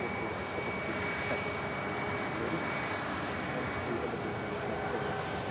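A TUI Boeing 787 Dreamliner departs Manchester Airport, heard as a steady, dense jet roar that holds constant throughout at moderate distance without voices.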